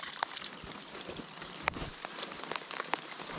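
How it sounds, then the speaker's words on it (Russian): Steady rain patters on water and surfaces during an outdoor fishing trip, a continuous fine hiss broken by scattered sharper drop hits, close and moderately quiet. "Дождь идет, а мы скирдуем."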